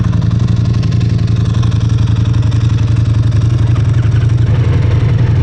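A loud motorcycle engine runs close up with a steady, rapid throbbing idle and no talk, loud enough to drown out a nearby 2024 Ducati Multistrada V4 RS.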